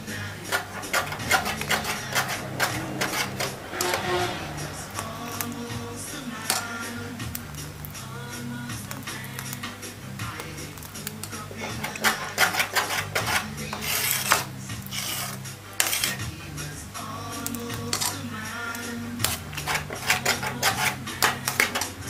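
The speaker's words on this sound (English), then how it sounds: "And then you stir it occasionally." A spoon scrapes and knocks around a pot of cornmeal porridge made with coconut milk, giving irregular clinks and rasping strokes over a low steady hum from the stove, close by and fairly loud.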